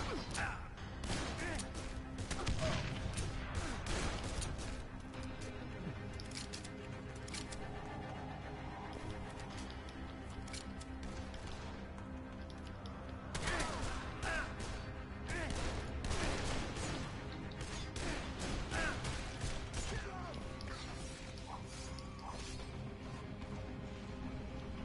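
Loud bursts of explosions and gunfire from the video game Dead Island crackle repeatedly over a constant background din, with muffled voices now and then.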